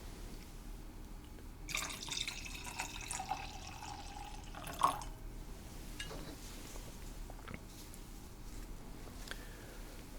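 Red wine is poured into a glass in a quiet first-class airline cabin, giving a faint, close trickle that swells for a few seconds and then tapers into soft drips.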